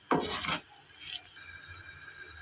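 Gram flour roasting in a pan while being stirred: a sharp scrape of the spoon against the pan at the start, then a quieter second stroke and a low, steady background hiss, close and without talk.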